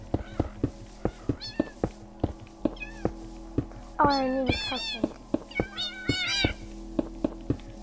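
Cats in Minecraft meowing in a series of rising and falling calls, some drawn out and wavering, over a steady rhythmic thumping; a person speaks briefly partway through.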